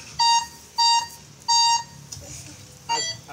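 A metal detector set to park mode sends out a strong, shrill signal as four sharp, clear beeps spaced unevenly, with faint background noise between them.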